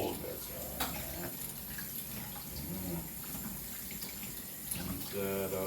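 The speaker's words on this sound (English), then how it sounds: "let's rinse the knife off" Running tap water rinses a kitchen knife at a sink, a steady splashing flow beneath ongoing talk, rising slightly toward the end.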